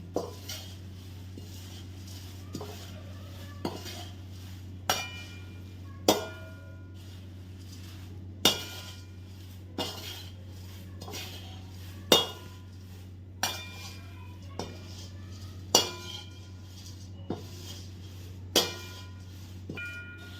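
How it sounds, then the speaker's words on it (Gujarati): Nylon poha for chevda being mixed with fried green chillies and curry leaves in a pan, a spoon striking the metal in sharp, evenly spaced clinks about every second or two over a low steady hum. "હવે જે લીલા મરચાં, મીઠો લીમડો જે ફ્રાય કર્યું હતું એ પૌવા સાથે આપણે મિક્સ કરી લઈએ."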